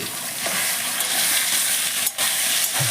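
Soybean paste sizzles loudly in a hot pan with black cumin, a steady close hiss with a few stirring scrapes and small pops.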